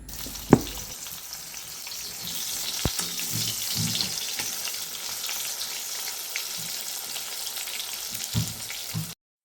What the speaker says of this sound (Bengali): এদিকে আলুটা ভাজা হচ্ছে